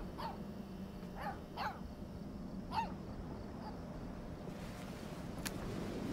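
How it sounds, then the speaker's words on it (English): A puppy in the game Life is Strange 2 gives a handful of short, light yips and barks over a steady background hum, fairly soft and spaced unevenly before falling quiet. "let's play fetch with the pup"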